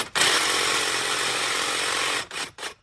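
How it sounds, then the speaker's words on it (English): A jigsaw cuts through metal during a MAF sensor upgrade on a CA18 Silvia S13 for an R35 GTR MAF, a loud sustained rasping buzz that runs steadily for about two seconds, then stops and restarts briefly twice. "Now I can take the jigsaw actually, stick it down in here."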